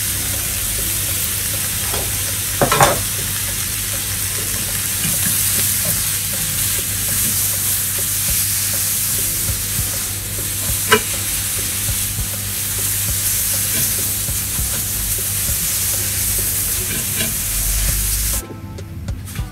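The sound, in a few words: Brussels sprouts, broccoli and cauliflower frying with pepper and salt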